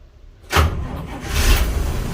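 After a brief quiet, a Nissan Patrol SD33 diesel engine cranks on a cold start with a loud, close churning whir that holds steady and builds slightly.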